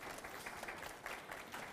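Church congregation clapping for someone called to the front, a soft, distant patter of many hands that stays even and faint for a moment.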